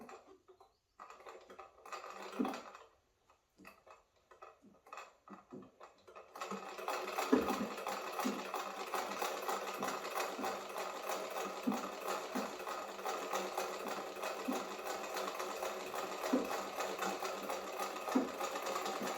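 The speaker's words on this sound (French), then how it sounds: "Et voici mes vrais premiers points à la machine" A century-old, pedal-driven sewing machine stitching steadily, a fast continuous rattling whir that starts after a few quiet, hesitant bursts and then runs loud and close.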